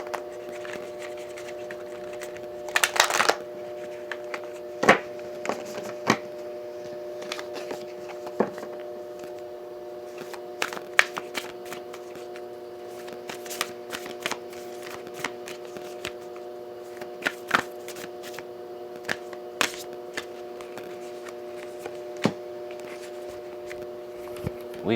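Oracle cards shuffled by hand, making repeated crisp riffling bursts and scattered sharp snaps over a steady background hum, close and fairly loud, with a voice speaking quietly at times.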